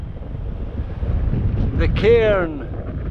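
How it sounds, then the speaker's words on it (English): Wind gusts across the microphone in Glen Lyon, a Scottish glen, as a low, constant rumbling buffet, while someone speaks briefly near the end. "It's pretty windy in the Glen."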